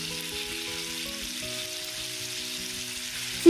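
Marinated chicken frying in melted oil and butter, giving a steady close sizzle that holds evenly throughout, with a soft melodic background and a brief louder clatter at the very end.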